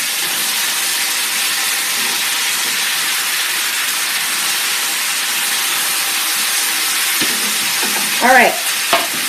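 A bacon jalapeño hash crisps in a hot pan with a steady, loud sizzle that runs the whole time, and a brief spoken remark comes near the end.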